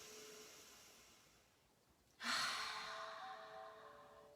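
Deep, slow breath drawn in during a guided breathing exercise: near-silence, then a sudden loud, airy rush of air that tapers off gradually, heard alone without talk.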